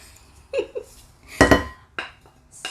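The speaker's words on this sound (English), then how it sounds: "basically what you're gonna do is just pretty much mix everything together in there" Quinoa salad with cilantro and red onion being stirred together in a bowl, giving a few scattered clinks and scrapes of a utensil against the dish, close and moderately loud, with no talk.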